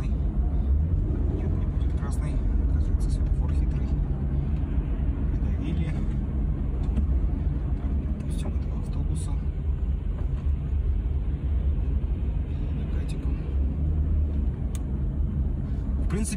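A hybrid car driving and accelerating, heard from inside as a steady low engine and road rumble that holds throughout with faint ticks above.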